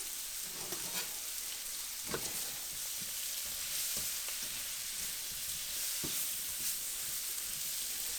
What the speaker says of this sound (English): Just want to make sure all the mushrooms are broken up so that they can all be cooked.